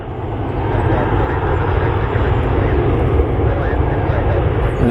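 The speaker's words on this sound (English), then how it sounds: "1355 is sitting here at the end of runway 6 right there, heading to Myrtle Beach, South Carolina." Jet airliner waiting at the end of runway 6 at Cleveland airport, a steady loud engine roar with broad rushing noise that rises slightly and holds, heard from a distance outdoors, with someone talking over it.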